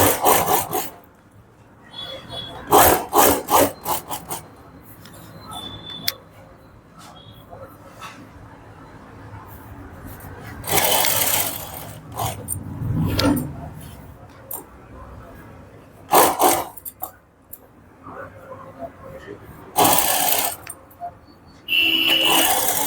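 A sewing machine runs in short bursts as it edge-stitches the front neck of a kurti with matching thread, its close whirring and rasping starting and stopping, with a voice talking between runs.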